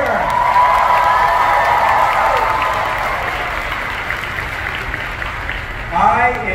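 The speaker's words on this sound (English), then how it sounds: "How about another huge round of applause for Jordan Fisher?" A big expo crowd gives a loud round of applause with cheering and whoops for a performer, a thick roar of clapping that eases slightly before a fresh swell of voices rises near the end.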